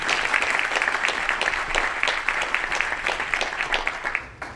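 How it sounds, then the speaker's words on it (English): An audience at a Junior Achievement of the Eastern Shore 18 Under 18 honoree ceremony gives sustained applause, a dense steady clapping that fades slightly at the end. "So a big round of applause for all of you as well."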